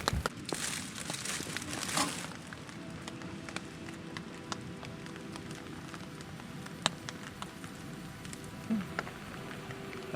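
Rain falling on a tent at night while stealth camping in the Wicklow Mountains, a soft steady patter with scattered crisp drops and crinkles close by, no talking.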